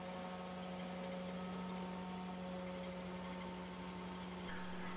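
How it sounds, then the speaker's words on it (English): A roof insulation vacuum machine's motor idles with its belts turning slowly, a steady droning hum with a continuous mechanical rattle at an unchanging pitch, with no talking. "Note the motor is set at idle, the belts are moving quite slowly, the tone of the engine will not change in this demonstration"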